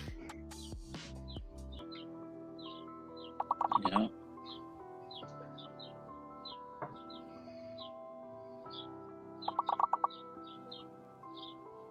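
Small birds chirp and tweet in short bright repeated calls at a pub, scattered through the clip under and between people talking, with a couple of denser trilling bursts.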